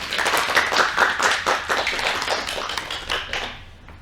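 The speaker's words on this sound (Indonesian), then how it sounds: "Kita beri aplaus dulu untuk kelompok 3." A classroom of students applauds a student group during a microteaching math lesson, steady dense clapping from many hands that fades toward the end, with no talking.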